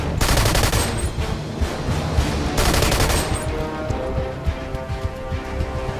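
Rapid, continuous gunfire fills the whole stretch at close, loud level in the Marvel Strike Force battle, with bursts of shots dense enough to blur together and a brief lull near the middle.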